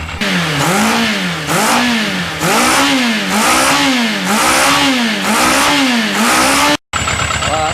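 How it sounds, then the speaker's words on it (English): Engine with a freshly fixed carburetor leak, air filter removed, revved repeatedly in loud, rising and falling pulls about every 0.6 seconds, close up, before a brief cut and a steadier idle. "I just revved it up to see if it would take the gas"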